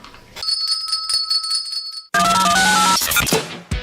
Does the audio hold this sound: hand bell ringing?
yes